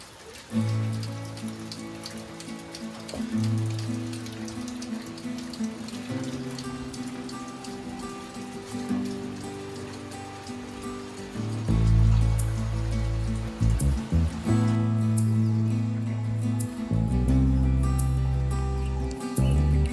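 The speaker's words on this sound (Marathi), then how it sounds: "झाला परत पाऊस चालू" Rain pours down in a village during the monsoon, a steady, loud patter that runs throughout over a low droning hum.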